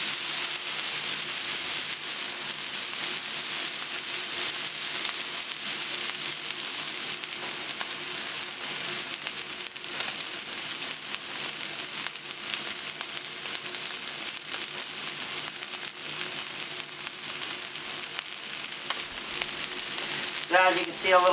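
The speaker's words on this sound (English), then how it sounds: "Let me enjoy the sizzle." Steak searing hot and fast on a Traeger Flatrock griddle gives a loud, continuous crackling sizzle, close and unbroken throughout, with a brief scrape near the end.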